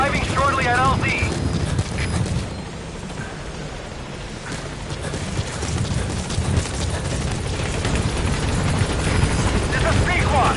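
A helicopter arrives at a landing zone in the video game Metal Gear Solid V: The Phantom Pain, its loud, steady rotor roar filling the scene continuously from start to finish.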